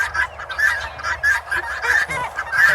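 Farm fowl, geese and chickens, honk and cluck in a steady, busy chorus, close and loud, with calls overlapping throughout.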